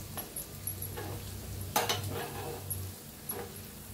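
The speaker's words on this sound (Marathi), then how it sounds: "आता हे मसाले घेतले ते तेलात सोडूया, हलवून घेऊया" Spices dropped into hot oil are stirred in a pan, with a few light clinks and scrapes of the spoon against metal over a faint, soft sizzle, close up and without talk.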